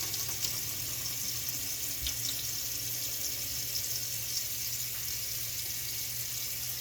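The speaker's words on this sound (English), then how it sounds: "I'm going to rinse them off." Faucet water runs steadily over marinated turkey being rinsed in a sink, a constant hissing flow at moderate level with faint clinks and no talk.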